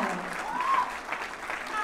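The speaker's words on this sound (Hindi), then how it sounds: "तालियां बजनी रहनी चाहिए, तालियां रुकनी नहीं चाहिए." Audience applause at a makeup product launch event fills the room as steady, dense clapping from a crowd, heard moderately loud throughout with faint voices mixed in.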